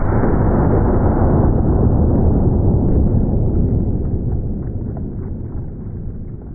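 A Shockwave 590 fires a 12 gauge mini slug in one loud, booming blast whose rumble decays slowly over several seconds, with no voices.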